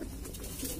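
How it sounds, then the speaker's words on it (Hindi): A golden zeera Indian pigeon of the red-fire (lal aag) type coos softly in a short, low, murmuring burst close by, with steady background noise and no talk. "भाइयों ये गोल्डन जीरा कबूतर है, लाल आग के अंदर गोल्डन जीरा।"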